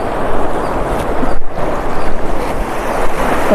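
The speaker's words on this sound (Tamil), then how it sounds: "தண்ணி சத்தம் பாருங்களேன்" Seawater washes and splashes steadily with a windy rush at Tenneti Park beach, a continuous loud surge that briefly dips before rolling on.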